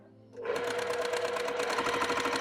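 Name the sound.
sewing machine stitching quarter-inch seam on quilt block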